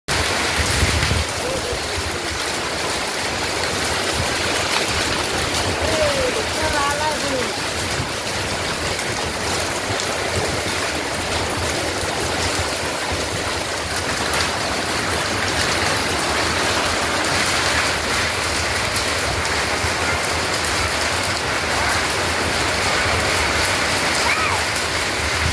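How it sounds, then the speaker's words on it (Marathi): A sudden hailstorm with rain over farmland, a dense unbroken roar of falling water and pelting ice, loud and steady throughout, with faint voices now and then. "राजापूर येथे अचानक गाराचा पाऊस"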